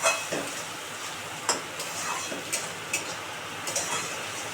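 Black and white mustard with green chili sautéing in a pan, a soft steady sizzle broken by several sharp clicks and scrapes of a utensil stirring, close and moderately quiet.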